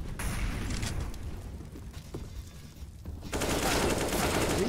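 Rapid gunfire from a Counter-Strike: Global Offensive match, bursts of automatic shots rattling continuously at moderate loudness, building into a denser, louder volley near the end.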